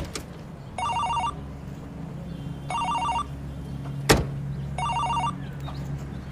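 Three evenly spaced bursts of an electronic trilling ringtone sound over a low engine-like hum, with a sharp knock between the second and third.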